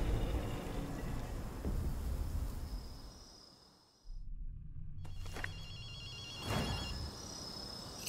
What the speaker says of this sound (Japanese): アキト、電話の音が聞こえないか。